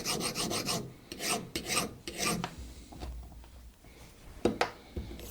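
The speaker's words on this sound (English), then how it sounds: "But first, deburring." Hand file rasping across a metal part to deburr it, a lowprofile DTI holder being made in a workshop; repeated close strokes in steady bursts, then a few scattered scrapes and taps.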